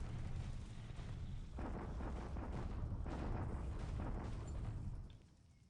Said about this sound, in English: Allied artillery doing its job. More allied artillery.